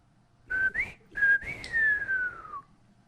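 A person whistles a short tune alone, a few clear sustained notes with a rising slide, then a long falling glide, close and fairly loud.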